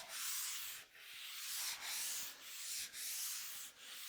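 Hand sanding with a piece of sandpaper along the edges of a wooden butcher block countertop, a close, soft rasping rub in repeated back-and-forth strokes with brief pauses between them.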